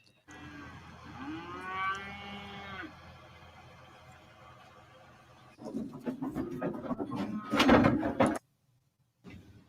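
Cattle on a ranch moo loudly and nearby, one long drawn-out bellow followed after a pause by a burst of louder overlapping moos and clatter, then a brief silence.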